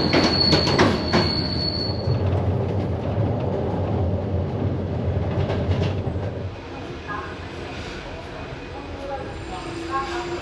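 A Budapest–Bucharest sleeper train heard from the carriage right behind the locomotive: loud continuous rumble with clicking wheels and a high squeal early on, then the noise drops to a quieter, steadier roll.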